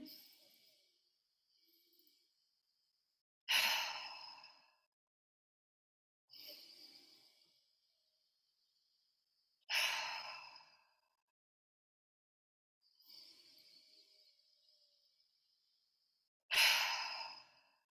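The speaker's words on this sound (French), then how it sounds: "je vous montre cette respiration qui commence dans le bas du ventre et qui vient s'amplifier jusqu'en haut des clavicules" Deep breathwork breathing, slow inhales and exhales drawn from the lower belly up to the collarbones, with about six long breaths in a steady cycle, close and soft with no talking.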